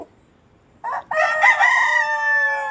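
A native country rooster crows close by, a brief clucking note followed by a long, loud drawn-out crow over a quiet background.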